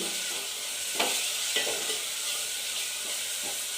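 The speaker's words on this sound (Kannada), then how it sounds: "ಟೊಮೊಟೊ ಹಾಕಿ ಸ್ವಲ್ಪ ಫ್ರೈ ಮಾಡ್ಕೊಳ್ಳಿ." Tomatoes fry in a pan for a pepper rasam, a steady close sizzle broken by a few soft stirring scrapes, with no voices.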